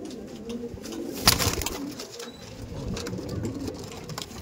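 Andhra Madrasi pigeons in a loft coo in low, murmuring calls that run continuously at moderate distance, with light background noise and a brief sharp clatter.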